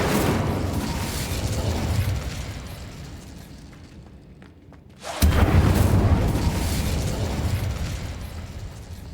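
An Incendio fire spell blast in Hogwarts Legacy: a roaring, explosive burst of flame that swells, briefly dips into a lull, then erupts again loudly with a sharp onset and a sustained rumbling roar.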